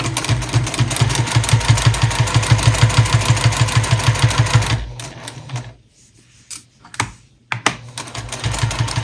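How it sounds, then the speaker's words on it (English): A sewing machine stitches down the sides of a fabric microwave potato bag with a fast, even chatter of needle strokes for about five seconds. It then stops, followed by a few short bursts of back-stitching and quiet pauses. "now all we're going to do is sew down both sides, doing a back stitch at the beginning and the end"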